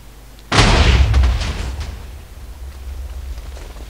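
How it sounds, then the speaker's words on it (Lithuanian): A Minecraft explosion is set off with a lever: a sudden loud boom lands about half a second in, then a broad rumble fades slowly over the next few seconds. "Padedame šitą leverį ir susprogdinam."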